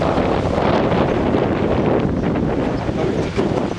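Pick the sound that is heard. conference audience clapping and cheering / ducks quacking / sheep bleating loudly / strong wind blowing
strong wind blowing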